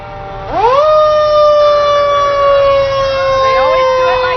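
Fire truck sirens wail loudly and steadily at an Independence Day parade, rising quickly at the start and then holding a sustained tone without speech.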